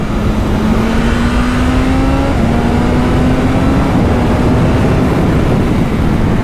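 A BMW S1000RR motorcycle engine holds second gear at 6,000 RPM around 50 mph, a loud steady drone with a slight pitch step midway, heavy wind rush over it and no talk.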